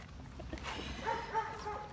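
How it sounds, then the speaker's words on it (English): A nervous dog barks and lunges at a trash can beside a long driveway, giving short, strained yips and whimpering barks over outdoor street noise, fairly faint and not very close. "she started to bark and lunge at the trash can"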